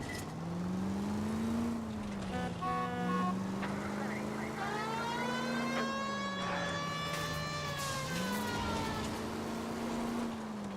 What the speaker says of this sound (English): Just gotta love blaring those sirens.